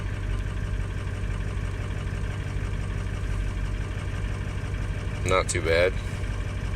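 An engine idles steadily after a cold start, a low, even drone that runs throughout, with someone speaking briefly near the end.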